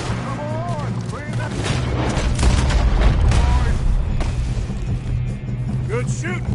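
Gunfire rattles in Red Dead Redemption 2 during a shootout against the O'Driscolls, repeated shots and crashing impacts under shouting voices and background score.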